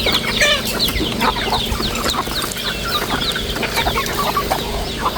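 Chickens cluck and squawk continuously at close range, forming a busy chorus of overlapping calls with other birds chirping in the background and no voices.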